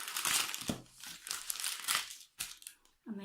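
Pretty decorative wrapping paper around a bar of Lush soap crinkles and rustles in close, irregular bursts as it is handled and unwrapped.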